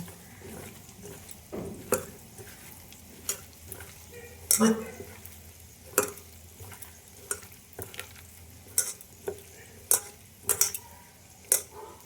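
Soybean chunks being mixed by hand with yogurt, turmeric, chili, cumin and coriander powder, giving soft squelching stirs and scattered sharp clinks of a spoon against a bowl, fairly close and quiet, with occasional talk.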